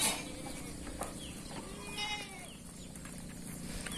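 Sheep bleating on a Thai goat and sheep farm with a Dorper crossbreed ram, several wavering calls at moderate distance over a steady background hum, with no talk.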